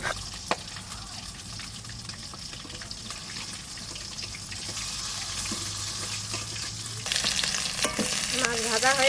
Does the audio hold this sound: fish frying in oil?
yes